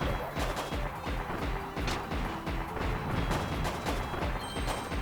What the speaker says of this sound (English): It launches fireworks that can break apart bricks.